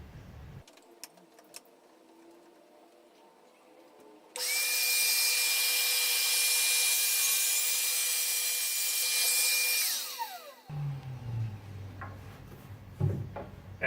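A router cuts through wood for a homemade split router table fence, a loud steady high whine lasting several seconds, then spinning down. Quieter shop handling noises come before and after.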